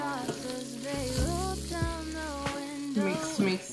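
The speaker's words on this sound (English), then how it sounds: "Mix that, let it simmer a bit." Oxtail stew with tomato paste simmers and sizzles in a pot while a spoon stirs it, steady frying hiss under a tonal background melody, with a few scraping stirs.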